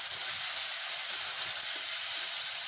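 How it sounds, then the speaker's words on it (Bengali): Spice paste frying in oil for a tilapia curry, giving off a steady, bright sizzling hiss that holds even and close throughout, with no talk. "মশলা থেকে যতক্ষণ তেল না বেরোবে ততক্ষণ মশলাটা কষাতে হবে।"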